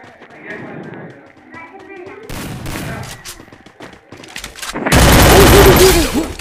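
Gunfire in the Free Fire battle royale game during a clash squad match, scattered sharp shots that end in a loud, close burst, with someone talking excitedly in Hindi between them.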